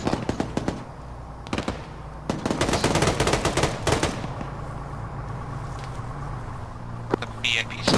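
Gunfire in a military video game, several sharp bursts of rapid automatic shots and single cracks against a rumbling engine-like background, with voices talking through it.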